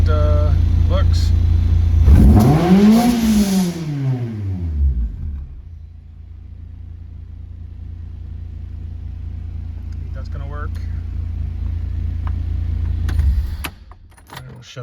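A first-generation Honda CRX engine in an open garage rises in a sharp rev and falls back, then idles with a steady rumble while someone talks briefly near the end.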